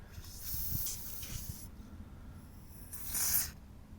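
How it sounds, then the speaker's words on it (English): Short bursts of silicone aerosol spray hiss onto tailgate hinge seals of a Mercedes-Benz G-Class W463 G500, two main sprays with a pause between, close and fairly quiet. "Spray some silicone spray"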